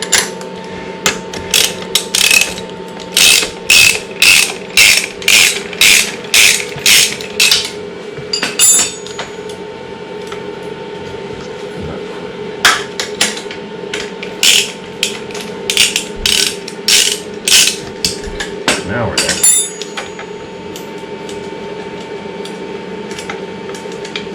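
A ratchet wrench with a socket on a short extension tightens a bolt, giving bursts of rapid clicking strokes in quick runs with pauses between, close and loud over a steady background hum.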